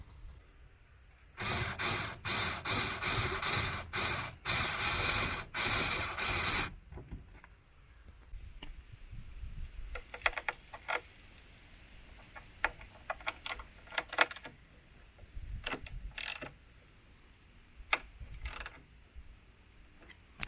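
A ratchet works bolts snug on a 2020 Jeep Gladiator fiberglass top, with a long continuous ratcheting run early on, then scattered short clicks and clacks of fastening, close by and fairly quiet.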